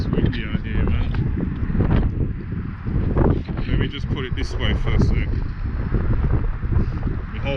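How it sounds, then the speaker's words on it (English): Strong wind buffeting a microphone outdoors beside a bench, loud gusty low rumble throughout while someone talks over it. "As I say, it's windy out here, man."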